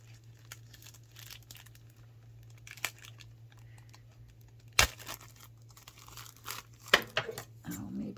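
Crinkly packages from a book haul are torn and crumpled open up close, scattered rustles with a couple of sharper tearing bursts over a faint steady hum.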